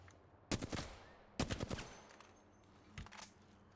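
Rapid automatic gunfire bursts in Apex Legends, three separate volleys of quick sharp shots with the last one quieter, heard with no talking.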